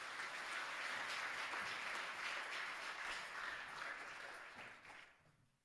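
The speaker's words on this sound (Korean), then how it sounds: "큰 박수로 축하해 주시기 바랍니다" A church congregation claps loudly and steadily during a Sunday worship service, celebrating a Bible course graduation, with dense applause that tapers off at the end.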